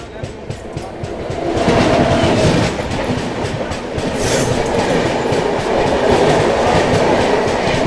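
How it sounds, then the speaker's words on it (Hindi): Shramjeevi Express on the Rajgir–New Delhi route passing at a crossing, a loud continuous roar of rolling wagons with clickety-clack wheel beats and a brief high squeal, heard close from a moving train. "किसी गाड़ी के साथ क्रॉसिंग हो रही है, श्रमजीवी एक्सप्रेस भी हो सकते हैं राजगीर नई दिल्ली"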